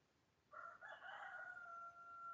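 A rooster lets out a single long crow among a flock of chickens, fairly distant and clear over a quiet background, the call holding steady before trailing off.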